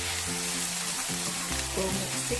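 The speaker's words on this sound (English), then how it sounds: "Just lightly saute that off." Ginger, garlic and chilli sauté in a pan, giving a soft, steady sizzle with a faint hum beneath it over a couple of seconds.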